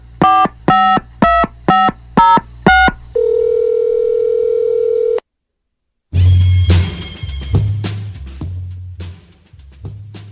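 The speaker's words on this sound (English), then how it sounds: "The Chump Line is the recorded voicemail message service of the Howie Carr Show" Telephone keypad tones beep six times in a quick even rhythm, followed by a loud steady dial tone that cuts to silence before a recorded voicemail line picks up with louder sound.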